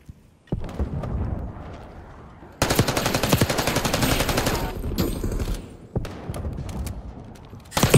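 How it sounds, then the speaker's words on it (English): A shotgun fires in Call of Duty Black Ops 6 during a Face Off match, with sharp, loud bursts and a dense crackling stretch of gunfire mid-clip, followed by scattered shots and thuds. "This shotgun never fails me, bro."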